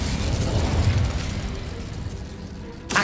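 The Incendio fire spell is cast in Hogwarts Legacy, a low rumbling whoosh of flame that ends in a sharp, bright burst near the close.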